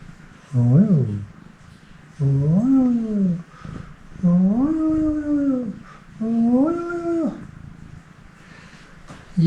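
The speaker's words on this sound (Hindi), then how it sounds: "ये देखें जी बिल्ली" A cat lets out four drawn-out, rising-and-falling meows in a hotel room overlooking a river in the Naran Kaghan valley of Pakistan, each call clear and close with short pauses between.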